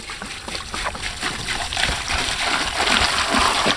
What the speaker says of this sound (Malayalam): നമ്മുടെ 10 ലിറ്റർ പെട്രോളും നമ്മളിതേ നമ്മുടെ അക്വേറിയത്തിലേക്ക് ഒഴിച്ചിട്ടുണ്ട്